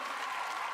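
Loud, steady applause from a live audience welcoming Team India fast bowler Akashdeep on stage, a dense wash of clapping with no voices standing out.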